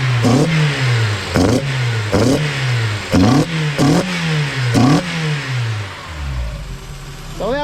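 Repeated sharp throttle blips from a Honda CRX engine fitted with individual throttle bodies, about seven deep, throaty revs rising and falling over an idle, loud and close, ending as the engine settles.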